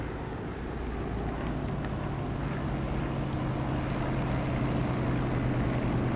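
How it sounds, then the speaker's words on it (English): Aircraft engine noise in the DCS flight simulator on final approach to a runway with flaps down: a dense, continuous roaring drone that swells slightly at the start and then holds steady and loud. "Hear the engine noise get a bit louder as we get near the runway because we're getting reflected sound."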